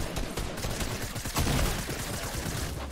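Rapid video game gunfire in a battle royale match, dense bursts of shots crackling close and loud for a few seconds with no talk.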